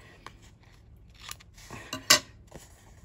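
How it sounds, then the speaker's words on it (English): Scissors trimming the corners of stenciled 4x6 cards, a few scattered close snips and clicks with small paper rustles, one sharper cut standing out. "maybe I'll fix the corners on these. Obviously, they need to be trimmed."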